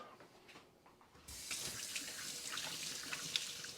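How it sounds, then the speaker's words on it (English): A kitchen tap switches on and runs steadily into a sink while hands are washed, soft and close, with faint splashing and no talking. "I'm going to wash my hands"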